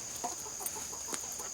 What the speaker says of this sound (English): Hanging with the chickens.